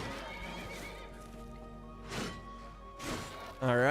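A horse in the modded Skyrim video game Nolvus gives a sharp whinny near the end, after hoof and impact noises earlier on.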